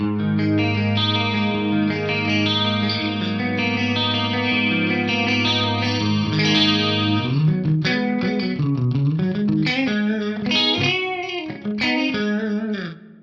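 An electric guitar runs through a pitch detune chorus-like spatial effect, first holding wide, shimmering sustained chords, then moving into a busier melodic line with light drive, loud and upfront.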